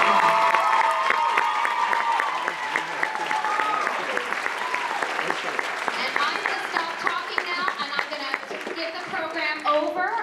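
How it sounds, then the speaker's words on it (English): A concert audience at a high school vocal pops show breaks into sustained applause and scattered cheering, a dense wash of clapping that holds for about ten seconds before thinning slightly. "Can we get a huge round of applause?"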